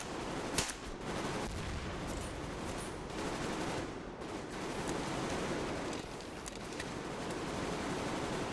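Gunfire in a video game comes as dense, continuous bursts of shots layered into a loud, steady roar with no pauses and no voices.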